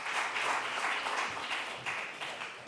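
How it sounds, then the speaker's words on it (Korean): Applause from a church young-adult congregation at a Sunday service, welcoming new-member assistants: a steady wash of many hands clapping at moderate distance, sustained for a few seconds without talk. "새가족 조교님 나오실 때 큰 박수 부탁드립니다"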